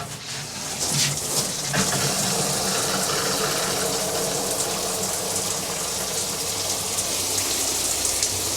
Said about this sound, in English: getting the hot water now